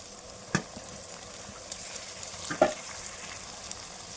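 Tomatoes frying in a pan for fried chicken biryani, a quiet steady sizzle with a couple of sharp knocks and stirring clatters on top, no voices.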